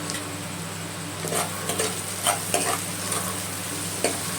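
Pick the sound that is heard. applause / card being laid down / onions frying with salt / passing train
onions frying with salt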